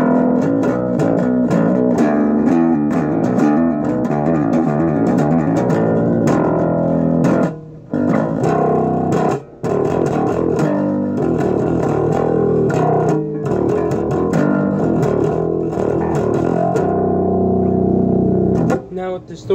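Ibanez Gio Soundgear five-string bass played with a pick through distortion, a loud, gritty riff of repeated picked notes running continuously with a couple of short breaks.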